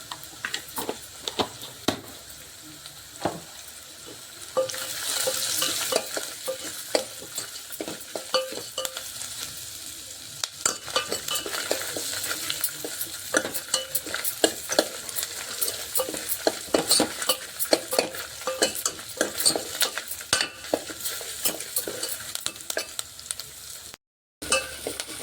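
Turmeric and spices stir-fry in a pan for a Telugu buttermilk curry, a steady sizzle with repeated scraping strokes of a spoon throughout, close and moderately loud, no talking.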